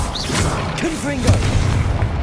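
A Confringo fire spell in Hogwarts Legacy bursts with a loud boom amid game combat, while a voice speaks briefly over the low rumbling background.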